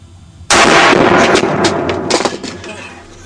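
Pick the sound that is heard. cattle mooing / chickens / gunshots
gunshots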